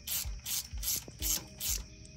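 A ratchet loosening cylinder head bolts on a Chevy 5.3 engine produces about six quick, evenly spaced ratcheting bursts, fairly faint, with no talk.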